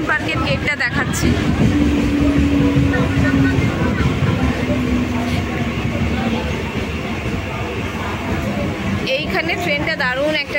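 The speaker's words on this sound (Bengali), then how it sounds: "এইখানে ট্রেনটা দারুণ একটা টার্ন নিচ্ছে" A Chakra Rail train in Kolkata rumbles steadily through a curve with a constant low roar and faint squealing tones, while voices talk over the noise close by.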